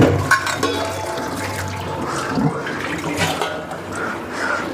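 Running water splashes over dishes being washed in a home kitchen sink, a steady near rush of flowing tap water with clinks and shifting splashes throughout, no speech.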